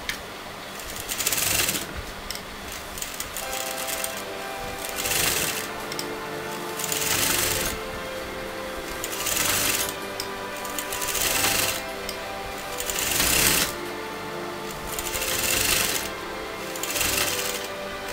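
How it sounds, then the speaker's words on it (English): A sewing machine stitches fabric for puff ruffle sleeves with piping, running in repeated loud close bursts of rapid mechanical whirring separated by brief pauses. "So I'm going to sew to the exact margin."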